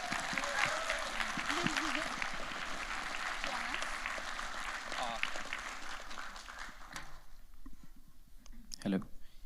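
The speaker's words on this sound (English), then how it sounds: "Can we give a big clap for Rudy?" Audience applause at a church service fills the room with dense, steady clapping for about seven seconds, then drops away to a quiet hall with a faint voice and a brief rustle near the end.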